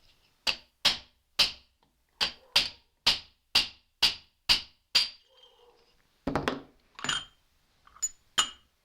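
Bearing tapped out of a Zenoah RC engine crankcase using a 1/2 inch socket extension as a punch, about a dozen sharp, evenly spaced metallic clinks, then a few irregular louder knocks.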